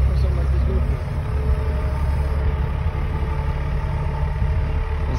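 A Hitachi EX300 excavator's large diesel engine idles with a steady, deep low rumble that stays even throughout, with nearby voices talking over it.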